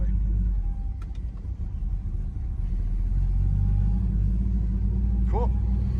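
A big block four-speed car pulls away slowly in first gear with a low, steady engine rumble that stays close and fairly loud throughout, and a few faint voices are present.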